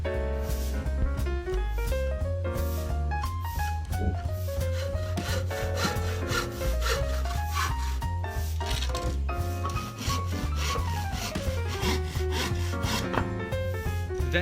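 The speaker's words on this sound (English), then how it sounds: "Next, measure and cut the side support of the chair." Pallet wood being sawn in steady, repetitive strokes, a constant rasping grind that carries on without pause or voices.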